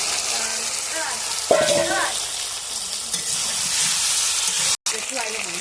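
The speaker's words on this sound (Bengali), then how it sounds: "কি ভাজাগুলো দিয়ে দেবো কচু ভাজা আলু ভাজা দিয়ে" Fried taro and potato pieces sizzle loudly and continuously in a pan, with a metallic clink and occasional stirring.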